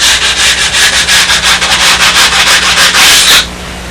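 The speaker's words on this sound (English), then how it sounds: "I try to true up with a sanding block along the edge of my glass table." A sanding block rubs along a wood edge on a glass table in fast, rhythmic back-and-forth strokes, loud and close, about five per second, before stopping abruptly.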